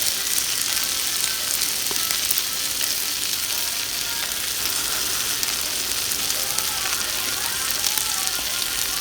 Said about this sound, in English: she adds the bacon to the griddle, and we turn the bacon down on low